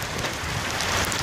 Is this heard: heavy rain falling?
yes